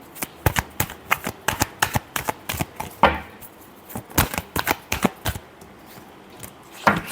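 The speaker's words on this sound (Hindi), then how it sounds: "Last shuffle." Tarot cards are shuffled close by in a quick run of crisp riffling bursts and snaps, roughly a dozen in a steady rhythm with a brief pause near the middle; no one speaks.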